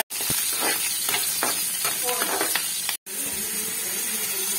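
Crushed garlic and curry leaves fry in hot tempering oil, a dense crackling sizzle with sharp pops that cuts out briefly and then resumes.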